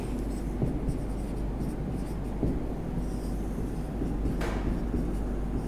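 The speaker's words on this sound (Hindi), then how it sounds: "तो हम लिखेंगे" Pen writing on paper while taking notes for a Hindi class, a steady scratchy scribble with little pause across the whole stretch, close and moderately loud over a constant low background hum.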